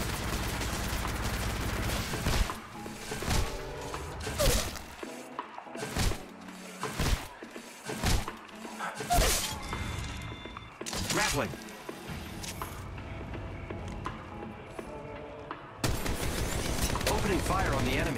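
Rapid automatic gunfire bursts in the Apex Legends Mobile battle royale game, loud and close, coming in repeated volleys separated by short pauses, with game voice callouts heard between shots.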